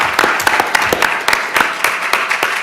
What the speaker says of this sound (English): give Lorena another round of applause